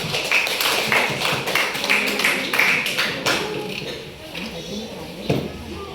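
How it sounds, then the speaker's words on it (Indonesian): Classroom applause as students clap together after a lesson on the rice-field ecosystem food chain, a dense patter of hands that thins out near the end, with a teacher's voice over it. "Tepuk tangan untuk kita semua."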